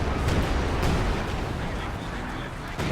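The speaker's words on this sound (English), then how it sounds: "he lands one of these 155mm artillery barrages" Booming 155mm artillery barrage in the Company of Heroes 2 video game, a dense rumbling wash of explosions landing close together and sustained loudly across the whole stretch.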